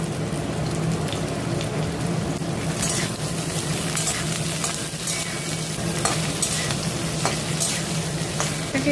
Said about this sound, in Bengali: আলুটা একটু ভাজা ভাজা হয়ে গেছে, এবার আমি এর মধ্যে ডাঁটাগুলো প্রথমে দেব